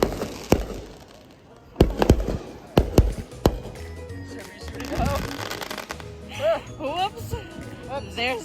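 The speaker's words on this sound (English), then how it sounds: "there's a bunch of fireworks going off everywhere" Fireworks going off at a celebration, scattered sharp bangs and crackles at middle distance, with people talking over them throughout.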